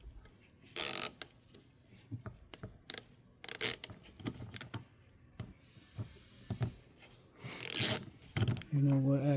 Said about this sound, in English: this is a long ratchet, which means it's getting more, it's tightening up more, because I got more leverage